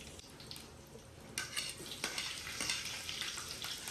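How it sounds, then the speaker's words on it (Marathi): Curry leaves and bay leaves sizzle sharply in hot oil, a steady crackling fry that jumps louder partway through as the leaves hit, with faint utensil clinks, close and without voices. "कढीपत्ता तेजपत्ता टाकू आपण."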